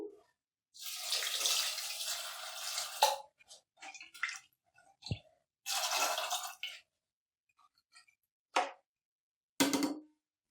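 Water is poured in bursts into a pot of beef karahi being cooked, several separate splashing pours of a second or two each with quiet gaps and a few drips and clinks between them.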